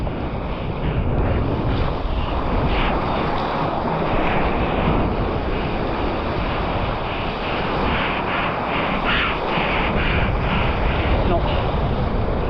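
Strong wind buffeting the microphone and ocean waves rushing while windsurfing on a new sail, a constant loud roar of wind and surf with no breaks.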